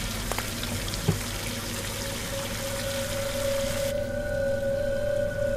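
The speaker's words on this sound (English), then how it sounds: "That's a very odd angle for a hose to try and fill up." In the Scratches video game greenhouse, water from a hose runs steadily at an odd angle to fill up, a continuous hissing flow with a faint tone alongside it.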